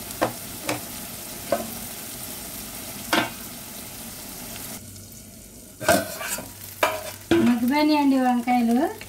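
Eggplant curry with salted dried fish and raw mango cooks in a pan, with scattered stirring scrapes and clacks over a low sizzle, then a louder burst of frying near the end.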